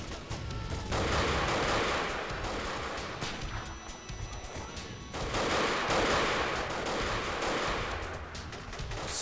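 Near-continuous volleys of gunfire crackle from several directions in a multiplayer match of the video game Delta Force: Black Hawk Down, loud and dense with brief lulls.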